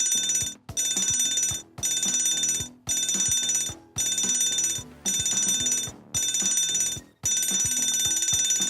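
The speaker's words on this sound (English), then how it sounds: "you will hear 7 short blasts and 1 long blast of the alarm bell" A ship's general alarm bell rings loudly in seven short bursts separated by brief gaps, then one longer continuous ring, clear and close.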